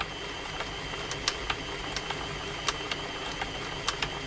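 An Elna 3007 sewing machine being serviced and oiled, running with a steady, fairly quiet mechanical whir and small, regular clicks.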